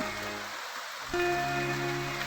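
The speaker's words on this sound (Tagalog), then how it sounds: "Habang umuulan." Steady rain patters on a surface at a farm during a thunderstorm, a constant hiss joined midway by a sustained low hum.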